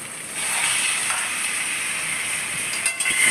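Marinated chicken poured into cooked-down spiced masala in a pan, letting out a loud, bright sizzle that rises quickly and holds steady, with small bumps of stirring near the end and no talking.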